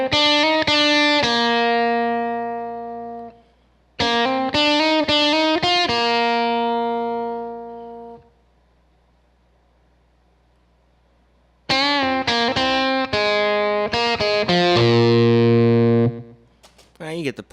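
Distorted electric guitar plays a repeating riff from a cover song. It comes in three loud, sustained phrases broken by a short gap of near silence.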